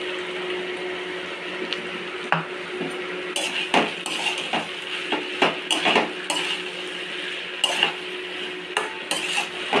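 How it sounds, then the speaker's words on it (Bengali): Potatoes cooked with poppy seed paste in a pan are stirred with a metal utensil, giving repeated scraping and clinking knocks against the pan over a soft, steady sizzle, close and alone without talk. "ভালো করে আলুর সাথে পোস্তটা কষিয়ে নিয়েছি"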